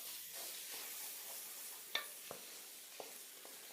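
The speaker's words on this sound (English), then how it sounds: "take some flour and dust it over the top. And just let it fry along with everything else" Beef bourguignon dusted with flour fries in a pot, giving a steady, fairly quiet sizzle with a few sharp utensil clicks and scrapes against the pot. Nobody speaks.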